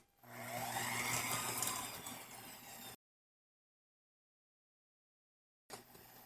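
An electric mixer whirs steadily close by as it beats batter after eggs are added, then stops for a few seconds of silence before starting up again.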